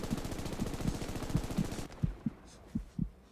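Gunfire in the World War II shooter game Hell Let Loose comes as a rhythmic series of muffled, thudding shots, fairly evenly spaced. It is steady at first and then sparser and sharper toward the end.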